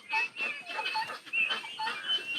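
Turkeys on a farm give repeated clucking, gobbling calls in short overlapping bursts, fairly close and moderately loud, with no talk.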